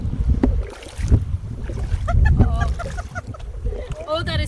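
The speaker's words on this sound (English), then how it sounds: "You can hear my feet moving through the shallow water." Feet slosh and wade through shallow water, recorded close by a handheld homemade hydrophone kept above the surface, with uneven splashing pulses and a voice talking over them.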